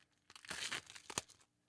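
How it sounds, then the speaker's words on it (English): A crochet hook jabs through crinkly plastic packaging close by, giving a burst of crackling and tearing followed by a few sharper crinkles and pops. "Let's find a hook to poke through that plastic and see what it looks like right here."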